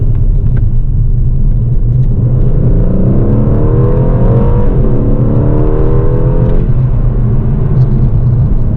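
An Aston Martin DB11 Volante's 4.0-litre twin-turbo V8, switched to Sport Plus, holds a deep, close rumble. Midway the revs climb and then ease off, with no talking over it.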